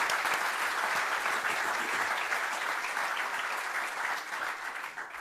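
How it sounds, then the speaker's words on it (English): An audience applauds three panelists at a California public utilities conference, a dense sustained wash of clapping from many hands that fades slightly toward the end. "let me invite the audience to join me in a round of applause for our three panelists"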